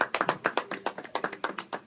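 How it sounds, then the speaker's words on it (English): Applause at a civics presentation on a bicameral legislature comes as quick, sharp, uneven claps, close and fairly light, as if from only a few people. The short burst has no talk. "let's give a round of applause to Senator Fuchs"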